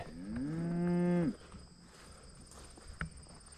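A cow lets out one loud, drawn-out moo, then quiet farm ambience with a faint thump and insects in the background.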